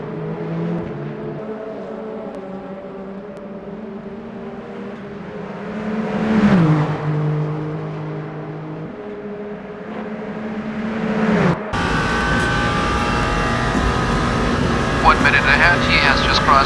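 Simulated race car (number 8) in Le Mans Ultimate at the Mulsanne corner during the 24 Hours of Le Mans: an engine droning and shifting pitch as it brakes and accelerates, with a commentator talking over it.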